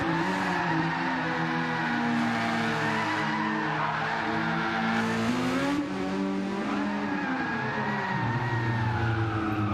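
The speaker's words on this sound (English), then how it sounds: "they're trying to do is burn out a set of tyres before this race starts" Several racing cars in a video game burn out their tyres before the race start, engines revving hard under a steady, continuous tyre squeal that swells and dips over several seconds.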